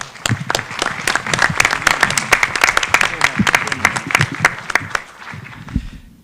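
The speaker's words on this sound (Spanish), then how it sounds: "les pido un fuerte aplauso" A seated audience applauds the panelists at the end of a debate, with sharp, close, individual claps over a busy wash of clapping. The clapping thins and fades out near the end.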